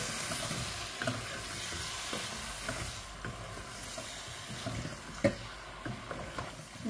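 Beans stirred into a fish curry frying in a pan, with a soft steady sizzle and scraping stir strokes, one sharper clack near the end; fairly quiet and close, no talk.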